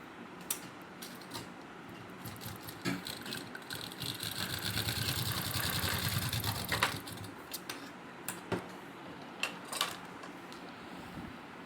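A sewing machine stitches a folded seam on fabric for men's underwear with a steady, moderately loud mechanical whir that swells in the middle, amid clicks and handling noises.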